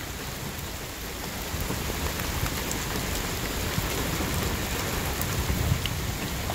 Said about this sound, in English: Goodness gracious, it's raining.